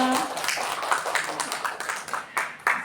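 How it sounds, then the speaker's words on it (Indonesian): A room of workshop participants gives a round of clapping, a dense patter of hand claps close by with a few louder sharp claps near the end. "Beri tepuk tangan untuk kita semua."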